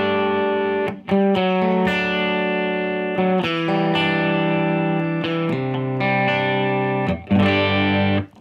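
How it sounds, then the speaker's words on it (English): Electric guitar played through a warm, lightly driven distortion pedal on a pedalboard, sustained chords and notes ringing with a thick harmonic tone, several attacks spread across the passage, loud and close with no talking. "This side gets a little warmer distortion yet."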